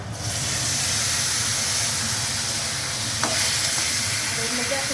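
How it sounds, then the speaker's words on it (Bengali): Potatoes with paneer frying in a pan, a steady close sizzle and hiss of oil with occasional light stirring scrapes, no talking. "আর এইদিকে পনিরের আলুটা ভাজা হয়ে যাচ্ছে"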